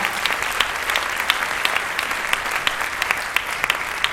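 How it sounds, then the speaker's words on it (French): Audience at a prize-giving ceremony applauds steadily, a dense field of clapping hands with sharp individual claps popping out, continuous and moderately loud throughout. "On peut les applaudir effectivement."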